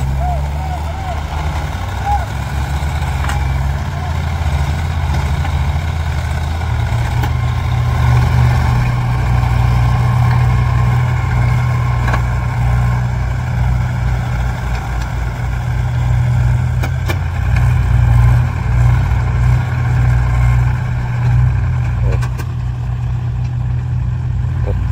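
A tractor engine runs steadily with a low, continuous rumble on a sugarcane farm where cane is being cut, holding a constant drone throughout, with faint voices and background sounds mixed in.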